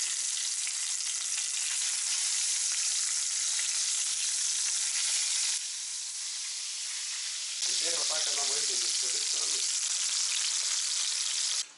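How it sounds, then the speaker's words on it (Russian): Pork chops sizzle and fry steadily in a pan, a loud, continuous crackling hiss that shifts briefly as the meat is moved or turned partway through. "Обжариваем мясо с каждой стороны по 7 минут."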